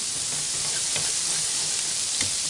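Garlic cloves sizzle steadily in a pot of collard greens, a continuous close frying hiss with a couple of faint scraping knocks from a utensil against the bottom.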